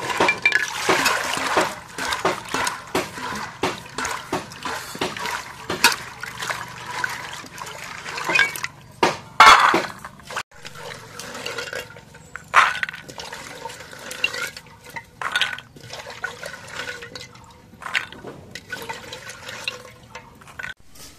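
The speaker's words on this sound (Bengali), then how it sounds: "এখন বুট আর এই আলুগুলো ধুয়ে নেই।" Chickpeas and potatoes being washed in water in a home kitchen, with irregular splashing, trickling and sloshing bursts close by, fairly quiet with brief pauses.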